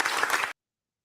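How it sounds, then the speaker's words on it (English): A studio audience at a Bill Maher show claps in a dense, even burst of applause that cuts off abruptly after about half a second. "And the audience claps."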